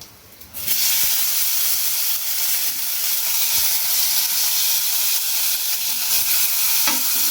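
Potatoes drop into hot oil tempered with panch phoron, setting off a sudden loud, close sizzle that swells within a second and then hisses steadily with a faint clink near the end.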